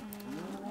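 A cow in the Minecraft video game lets out a single short moo, close and clear.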